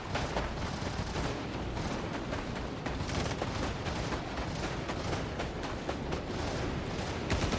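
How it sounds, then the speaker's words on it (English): Dense, continuous gunfire rattles through a Star Citizen firefight, overlapping shots and bursts at a steady loud level for several seconds with no voices. "I'm hearing gunfire."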